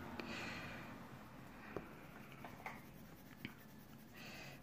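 A pencil scratches softly back and forth on paper while someone colours in a drawing. The strokes are faint, close and steady, with a few light taps over a quiet background.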